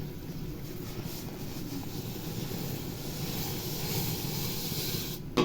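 Water boiling in a pot with rice just added, a steady close hiss with a faint bubbling texture throughout, ending in a brief louder knock.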